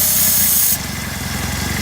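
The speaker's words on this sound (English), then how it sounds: "So if I spray the throttle body area," A 2000 Saturn SW1 DOHC engine with an aftermarket intake idles loudly while spray is applied around the throttle body; a sharp hiss cuts off early, leaving a pulsing, lumpy idle rumble.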